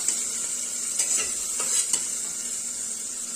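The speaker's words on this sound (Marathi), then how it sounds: "थोडंसं आपण परतून घेणार आहोत तर हे छान असं परतून झालेलं आहे" Onions and aromatics sautéing in a pan for rasam rice, a steady close sizzle with a few soft spoon stirs scraping through it, no voices.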